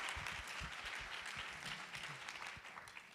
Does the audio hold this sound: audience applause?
yes